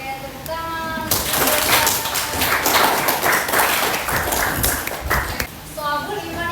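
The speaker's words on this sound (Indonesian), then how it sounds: "Oke, tepuk tangan." An audience in a classroom session claps hands together in a brisk, fairly close burst of roughly four seconds, with talking on either side of it.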